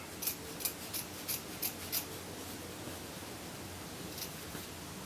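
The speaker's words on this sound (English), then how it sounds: "You want nice sharp scissors." Crisp snipping of scissors cutting through fabric, about six quick close cuts in a rhythmic series, then a pause and two softer snips over faint background hiss.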